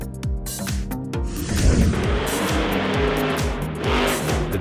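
The Monster Jam Earthshaker monster truck's engine revs up and down in rising and falling sweeps, loud and close, with some tire noise.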